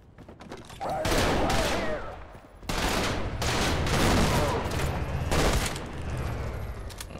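A gun in the video game Trepang2 fires in long sustained bursts after a brief lead-up, loud and continuous with a short pause between two stretches of shooting.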